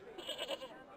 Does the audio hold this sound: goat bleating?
yes